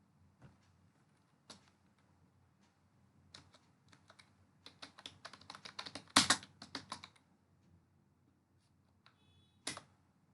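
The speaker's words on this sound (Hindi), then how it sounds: "टाइपिंग और डिलीटिंग टेस्ट कैसे करते हैं" Typing on a computer keyboard in a classroom-style demonstration: sparse key clicks early, then a dense burst of rapid keystrokes midway with one loud strike, tapering to a few isolated taps near the end, fairly quiet with no talking.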